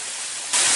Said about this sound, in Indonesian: suara gemercik air yang jatuh ke telaga sungai